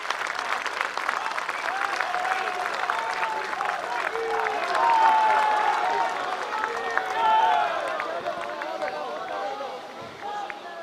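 A large crowd gives a loud, sustained round of applause welcoming Prime Minister Narendra Modi at a public address, dense clapping with some cheering that swells midway and begins to ease near the end.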